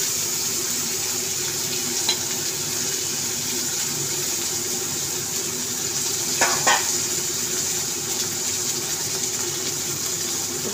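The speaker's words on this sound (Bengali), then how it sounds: "মাছটাকে হালকা হালকা করে উল্টিয়ে দেবো।" Fish sizzles steadily in hot oil in a pan as it is gently turned for a fish curry, a continuous close hiss with a brief scraping stir midway, no voices.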